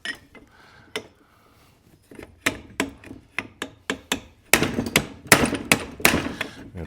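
A hammer strikes a socket on a vehicle's steering shaft universal joint: a series of sharp metallic blows, sparse at first, then quicker and louder, close up.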